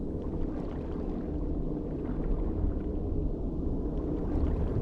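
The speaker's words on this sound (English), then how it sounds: "Swimming underwater." Underwater swimming in the survival game Bermuda Lost Survival, a muffled, low rumbling wash of water with soft gurgling movement, steady and close throughout.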